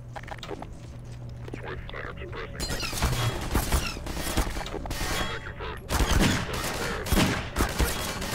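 Gunfire in the video game Half-Life 2, with dense bursts of shots and rapid fusillades that grow louder partway through, mixed with footsteps and other game noise.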